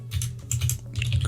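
Quick, steady keystrokes on a computer keyboard as a script is typed, close and clear, in short uneven clusters with no speech.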